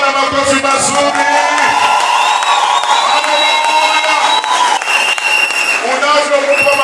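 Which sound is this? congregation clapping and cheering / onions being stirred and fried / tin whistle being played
congregation clapping and cheering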